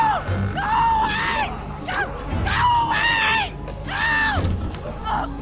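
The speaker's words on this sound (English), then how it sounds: "She's screaming." A woman screams over and over in The Walking Dead video game, three long, loud, wavering cries with short gaps between them and low noise under them.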